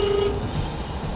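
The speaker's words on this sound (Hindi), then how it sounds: "अच्छा, किनको लगा रहे फ़ोन?" Ringback tone on an outgoing phone call: a single steady ring heard down the line near the start, then faint line hiss for the rest.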